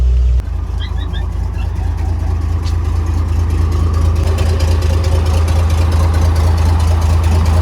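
An old bus engine runs steadily while driving on a main road toward a junction, a loud continuous low rumble that holds throughout with faint higher mechanical noise on top; the bus has a broken, rubbing coupling.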